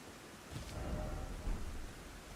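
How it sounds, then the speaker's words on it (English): Rain falling with a low rumble of thunder in the video game Elden Ring: Shadow of the Erdtree, a steady soft hiss with a deeper swell midway, heard alone without talk. "I didn't think it'd be able to rain in this place."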